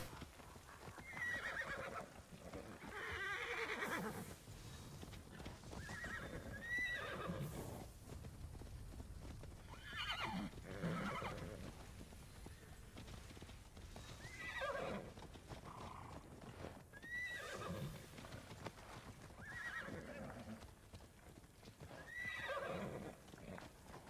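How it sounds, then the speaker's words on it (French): Horse hooves clip-clop steadily while the horse neighs and whinnies several times in Immortals Fenyx Rising, close and clear across the whole stretch with no talk over it. "J'aimerais bien pouvoir essayer de rapprivoiser un cheval."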